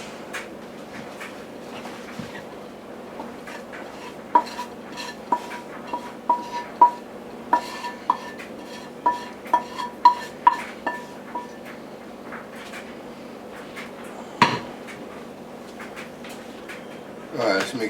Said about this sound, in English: Now I'm gonna mix that in together.